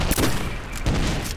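A grenade bursts amid gunfire in a video game, heard as loud, close, rumbling booms and crackling shots in two heavy bursts across a short moment.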